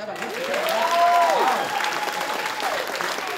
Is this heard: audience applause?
yes